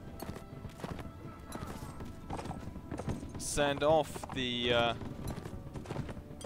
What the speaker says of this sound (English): He's got an armored horse.